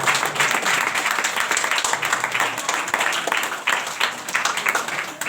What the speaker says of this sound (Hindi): ताली बजाएंगे सोने वाले की जोरदार।